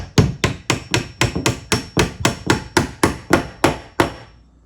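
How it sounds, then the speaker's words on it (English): About fifteen sharp metallic hammer blows on a door hinge pin land in a steady rhythm, each ringing briefly before the next, close up with no talking. "carefully hammer that down"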